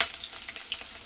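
Chopped onions and curry leaves frying in hot oil, a steady bright sizzle with soft crackles and pops running the whole time, close and alone with no voices.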